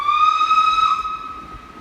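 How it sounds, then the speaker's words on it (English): A train whistle sounds loud and clear from a train running along a man-made railway embankment in County Durham, one sustained tone that holds and slowly fades. "with a train going along the top of it"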